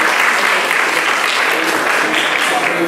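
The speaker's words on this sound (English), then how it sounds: "So one more time, I need a round of applause for what you guys are doing." Steady, loud applause from an audience at a foundation evening event, a dense wash of clapping that holds evenly throughout without letting up.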